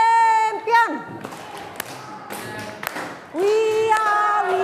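Classroom of children doing the tepuk champion clap routine, rhythmic hand claps and taps mixed with chanted group voices and a teacher speaking.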